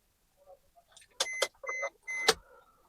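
Side mirrors on a Maruti Suzuki Ertiga VXi fold automatically at a button press, giving a couple of short motor whirs with brief pauses between them, close-up and fairly quiet.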